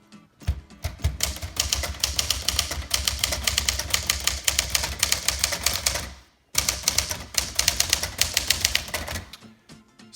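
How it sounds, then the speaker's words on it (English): Someone types on a 1962 Smith Corona Tower Citation 88 typewriter, a close, loud, dense stream of rapid key strikes with one brief pause midway. "Smith Coronas from the 50s and 60s are one of my favorites to type on."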